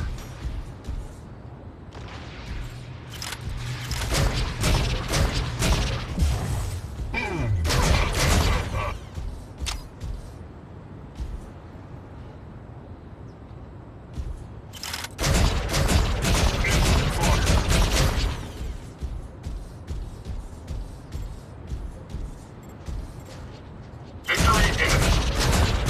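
Weapon fire and explosions from the Mech Arena robot combat game come in loud, broadband bursts and rumbling booms, separated by quieter stretches of mechanical background noise.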